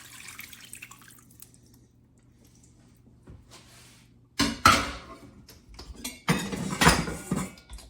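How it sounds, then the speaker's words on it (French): Canton broth poured into a cast-iron casserole pot for oven-baked beef, a couple of close splashing pours with a wet drip and clink of the pot after a quiet start. "nous allons rajouter le bouillon Canton dans notre creuset"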